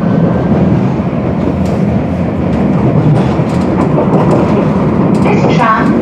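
A Nottingham tram on the move, heard from on board as a loud, continuous rumble with clattering wheels and a brief squeal near the end, voices faintly underneath.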